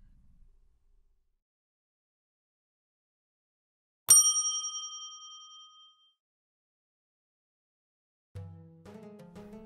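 A bright notification bell dings once, ringing clearly and fading over about two seconds in an otherwise quiet stretch. Soft music begins shortly afterward.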